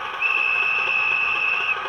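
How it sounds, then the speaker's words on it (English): A guard's whistle effect from a Hornby Class 31 model locomotive's sound unit: one clear, shrill, steady whistle tone lasting about a second and a half, heard alone and close. "you guessed it, the old guard's whistle"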